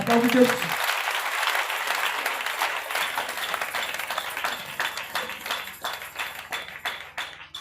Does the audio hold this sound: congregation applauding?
yes